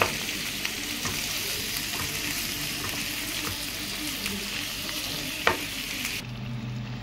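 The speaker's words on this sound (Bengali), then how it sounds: "আমি একে নেড়ে উল্টো দিকে করে দিচ্ছি, যেদিকে হয়নি কুমড়োটাকে" Ash gourd pieces sizzle steadily in a pan while being stirred and flipped, with scraping clicks from the utensil and a sharp clatter near the end, no talking.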